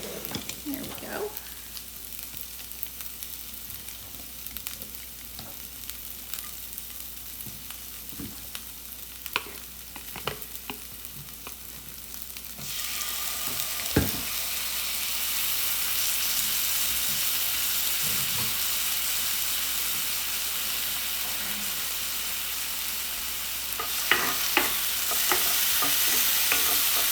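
Vegetables dry-sauteing in a pan for a veggie frittata, a soft sizzle with occasional stirring clicks that swells into a louder, steady hiss about halfway through, with no talk.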